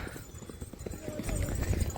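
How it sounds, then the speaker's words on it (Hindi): Racehorses gallop in a race in Bhuj, Kutch, their hoofbeats a rapid, rumbling drumming that grows louder toward the end under a commentator's continuous talk. "अकबर भाई का घोड़ा है पहले स्थान पे, जज भाई सवार।"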